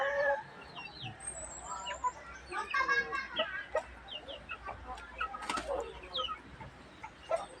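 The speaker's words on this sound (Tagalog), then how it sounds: "Yung tatlong sisiw guys oh. Wala na malalaki kaya matakaw sila oh." Three hungry chicks eat in a hurry, surrounded by busy clucking and chirping from farm chickens, with pecking sounds and faint background talk at moderate distance.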